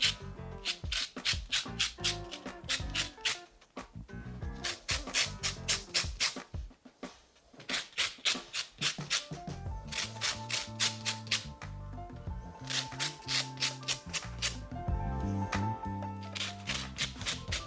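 Lemon zested over pork porchetta meat, a close, rhythmic rasping scrape in quick bursts of strokes with short pauses between.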